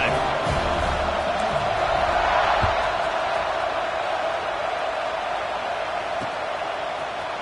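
A stadium crowd in the college football video game NCAA 26 roars steadily as a broad, loud wash of cheering that holds for several seconds and eases slightly toward the end, with no clear speech over it.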